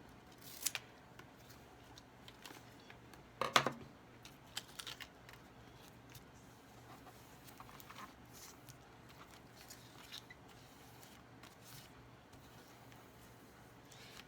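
Handmade paper being cut with scissors: a few faint, soft snips and crisp crinkles, with one sharper cluster near the start and a louder cut a few seconds in, then quiet light rustling in a still room.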